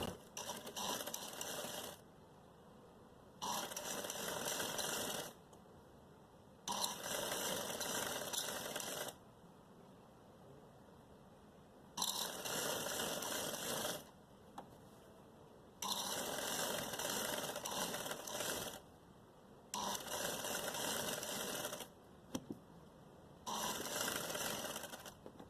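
A sewing machine overlocks a kaftan seam in several stop-start bursts of fast, steady mechanical stitching, each run lasting a couple of seconds with quiet pauses between, moderately close.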